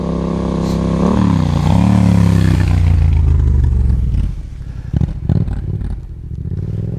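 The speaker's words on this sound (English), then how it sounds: "Wait for this motorcycle to pass." A motorcycle engine roars loudly nearby, its pitch rising and falling as it passes, then fades into clattering street noise.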